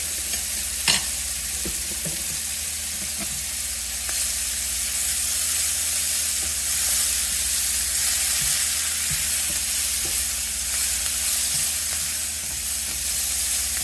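Two spoonfuls of minced garlic sizzle steadily in a hot pan while a utensil stirs and scrapes through it, a constant frying hiss with occasional soft clinks, close and fairly loud, no talking.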